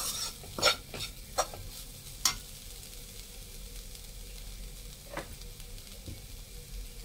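Onion, green chilli and spice mixture frying in a pan, a quiet steady sizzle punctuated by several sharp spoon scrapes and taps while it is stirred, close by.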